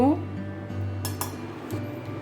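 A spoon clinks against a bowl as flour and gram flour are added for a batter, with a few sharp metallic taps standing out over a low kitchen hum.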